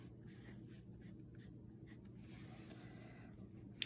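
Pen or pencil writing on paper while colours of the rainbow are listed, a soft steady scratching close by and faint, with no talk.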